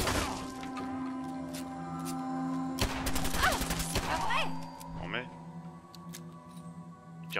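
Rapid bursts of gunfire and sharp cracks from a firefight in Fallout 4, loud and dense in the middle stretch over a steady game hum, with someone talking throughout.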